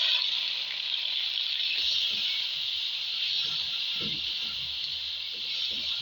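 Finely chopped onions, two of them, frying in a pan for a dal chicken dish, giving a steady, loud broadband sizzle that holds evenly throughout, with faint low clatter and stirring noises underneath and no talking.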